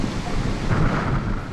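Rain and thunder during a storm, a dense steady wash of rain with a low distant rumble rolling underneath and some wind noise, no talking.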